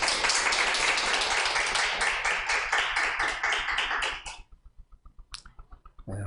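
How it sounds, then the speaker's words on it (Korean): Congregation applauding during a Korean church Sunday service, a dense, loud burst of clapping for about four seconds that quickly thins into a few scattered claps and then stops. "우리 하나님께 영광의 박수 올려드리겠습니다."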